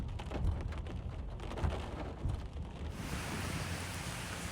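Heavy rain falling across New York City during flooding, a dense continuous hiss with a few low rumbling thumps early on, steady and moderately loud, no talking.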